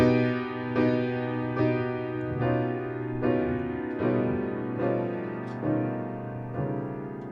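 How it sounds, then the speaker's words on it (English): An augmented piano chord is struck repeatedly, about nine times at an even, unhurried pace, each strike ringing into the next. "And augmented chords sound like this."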